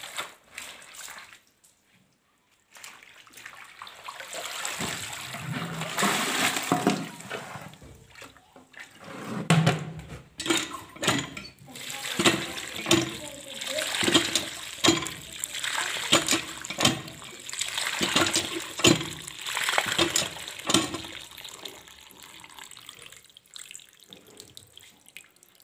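Leafy greens are washed by hand under running water from a tap in a village home. Water pours and splashes steadily for a long stretch, with repeated close sloshing and handling sounds and no talking.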